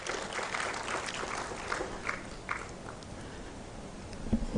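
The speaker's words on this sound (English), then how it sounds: "let's clap for ourselves for having seen this day together" An audience applauds at a Uganda–Kenya coast tourism conference: steady, moderately quiet clapping that holds evenly throughout, with no voices over it.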